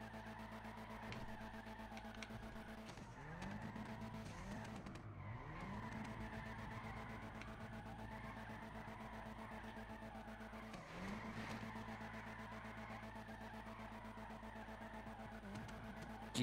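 Car in GTA V drifting on a street, with engine drone and repeated tire squeals rising and falling, sustained across the whole stretch at moderate loudness.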